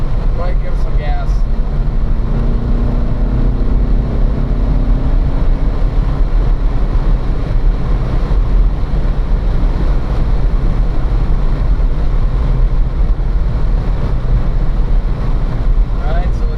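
Car accelerating hard on a race track during lapping, with a steady loud engine roar and rising tone, heavy wind buffeting, and an instructor's voice speaking over it.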